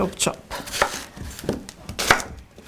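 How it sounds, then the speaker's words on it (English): A knife chopping through fibrous burdock root on a cutting board, about six crisp separate cuts in an uneven rhythm, close and clear with no talking. "So I'm gonna chop."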